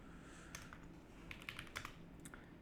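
Computer keyboard typing at a desk while writing SQL, a few scattered key clicks that pick up into a quick cluster of taps, quiet and close with no talking.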